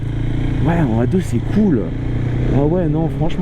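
A 2022 KTM 690 SMC R motorcycle ridden on small country roads, its engine a steady low hum under a rider speaking French close to the microphone.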